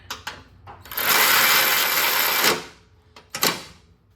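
A cordless ratchet tightens a bolt in a sustained whirring burst of about a second and a half, framed by clicks and short taps from handling the tool.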